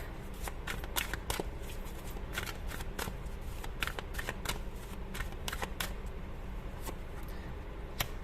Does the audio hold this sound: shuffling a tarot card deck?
yes